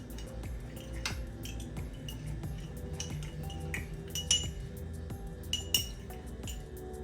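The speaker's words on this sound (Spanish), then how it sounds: "Con esta misma cuchara vamos a mezclar los ingredientes." A metal spoon stirs mojito ingredients in a glass, giving a run of bright clinks and taps against the glass, irregular and close, with no talking.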